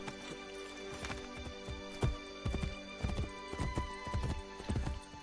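Rhythmic hoofbeats clop steadily as a horse gallops across the Roman countryside in Assassin's Creed Brotherhood, with a snort or whinny mixed in, over a constant game-style background hum.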